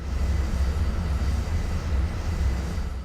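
Airplane in a flight video game on a landing approach toward flashing runway lights, a steady, loud engine drone with a deep low rumble that holds constant throughout.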